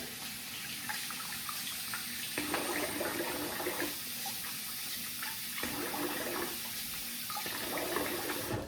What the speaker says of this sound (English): All right, so I'm gonna rinse the face here.